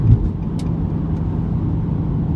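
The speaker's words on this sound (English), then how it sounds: "now I'm driving a 2007 Nissan 350Z" A 2007 Nissan 350Z drives along with its engine running, a steady low rumble and road noise holding at an even level throughout, close and continuous with no talking.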